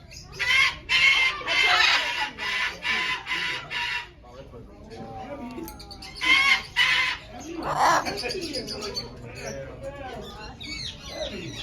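Green-winged macaw Ruby squawking in repeated loud harsh bursts, several in a row, then quieter chattering vocalizations, with a person talking intermittently nearby.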